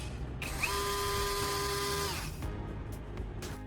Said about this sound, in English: I'll attach this DIY stirring tool to a drill